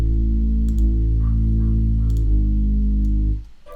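Deep synth bass from Spire following a piano's root notes, sustained low tones changing pitch a few times before cutting off near the end, with faint clicks above.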